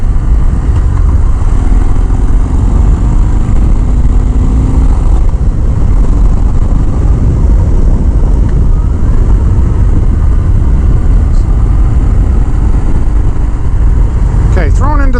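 A Harley-Davidson Fat Bob's engine rumbles loud and constant while riding, mixed with heavy wind roar, a voice speaking over it at times.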